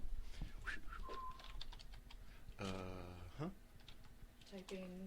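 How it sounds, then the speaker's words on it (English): Quick, light computer keyboard taps at close range, mixed with voice-like tonal sounds and soft coo-like sounds. "Typing."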